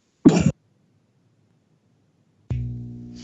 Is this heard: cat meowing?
no